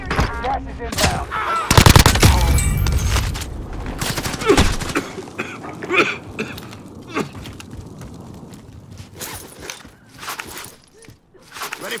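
Battle royale video game gunfire: dense bursts of automatic shots near and loud for the first few seconds, then scattered sharper single cracks and footsteps thinning out, with brief speech in the mix.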